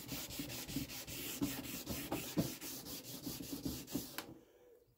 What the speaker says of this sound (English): I'm showing you in real time how long it takes just to rub this bonnet down.